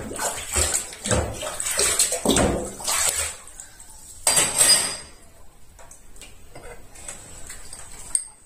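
Dishes and a coffee pot rinsed under a running kitchen tap, with irregular clinks and clatters of crockery and bursts of splashing water, close by and fairly quiet.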